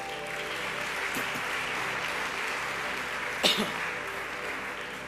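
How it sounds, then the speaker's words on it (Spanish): Sustained applause from a church congregation, a steady wash of clapping at moderate level with a low hum beneath and a couple of brief louder bursts. "Yo daría un aplauso al Señor."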